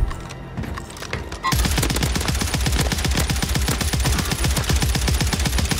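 Long-range gunfight in Warzone Rebirth Island: a few scattered shots, then a loud, rapid, sustained burst of automatic gunfire with evenly spaced cracks.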